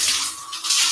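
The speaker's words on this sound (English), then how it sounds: "Who goes in the shower on Omegle?" Water running steadily in a shower, a continuous broadband hiss that dips briefly midway and returns at full strength, with no voices present.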